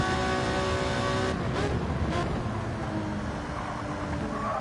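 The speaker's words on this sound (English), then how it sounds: "Look at the Elantra pull away." A Hyundai Elantra race car in a racing video game drones with a steady, buzzing engine note, joined by a brief passing whoosh of other cars and continuous road and engine noise.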